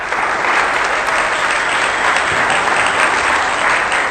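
Church congregation applauding, a steady burst of dense clapping with light cheering, loud and even for a few seconds.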